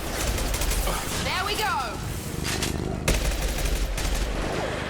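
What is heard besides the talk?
gunfire from a gun in the Mass Effect 2 video game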